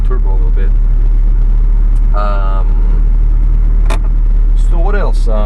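A 1991 Toyota Starlet GT Turbo, a right-hand-drive JDM car, idles after a test drive with a constant low, close engine drone, while people talk over it.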